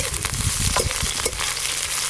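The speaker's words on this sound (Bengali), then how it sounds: "এবার অল্প একটু পেঁয়াজ কুচি দেব।" Chopped onion going into a pan of frying bitter gourd, a close, dense sizzle with a few stirring clatters over a short stretch, no talk.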